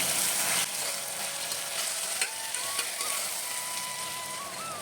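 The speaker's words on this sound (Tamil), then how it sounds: "இந்த டிஷ்ஷுக்கு தேவையான உப்பு ஒரு முறை நல்லா கலந்து விட்டுட்டு கொஞ்ச நேரம் நல்லா வதங்கட்டு இந்த தக்காளி" Chopped tomatoes with salt sauté in a pan for coconut milk rice, giving a soft, even sizzle with a few faint stirring clicks, close by and with no speech.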